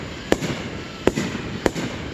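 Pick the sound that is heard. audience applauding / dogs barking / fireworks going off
fireworks going off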